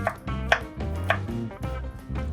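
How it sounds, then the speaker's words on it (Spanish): A knife slices garlic cloves on a cutting board, producing a steady series of soft, close chopping taps about twice a second. "Vamos a empezar laminando el ajo, sin mucha pretensión, simplemente laminamos"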